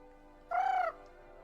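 A person imitating a rooster crow, one short, bright, tonal call near the middle of an otherwise quiet moment.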